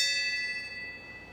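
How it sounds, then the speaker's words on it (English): A single bell struck once and left to ring, its clear metallic tone holding and slowly fading over more than a second, heard alone without talk. "I'm going to ring the bell."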